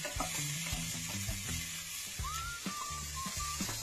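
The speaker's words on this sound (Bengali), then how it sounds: "অল্প তেল গরম করে মাশরুমগুলো সতে করুন।" Mushrooms sautéing in a little hot oil, a close, continuous sizzle broken by clanking spatula strokes against the pan, with a faint squeak and no voices.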